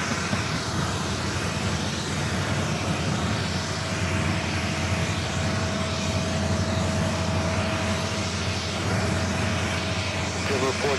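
Singapore Airlines Boeing 777 at JFK airport, a loud continuous roar of jet engines with a steady whine throughout, with people talking faintly in the background.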